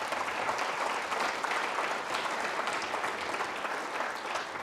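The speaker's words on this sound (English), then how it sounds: "Big round of applause for that." An audience at the 125th annual alumni banquet gives a steady round of applause, many hands clapping together in an even wash that holds for several seconds.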